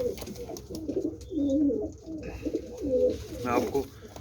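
A pet pigeon coos in soft, repeated rolling phrases close by, with someone speaking over and between the calls.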